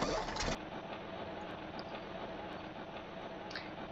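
A Jelcz 272 MEX bus engine running in the OMSI bus simulator: a steady, low, rumbling idle drones evenly throughout, after a brief louder burst at the very start.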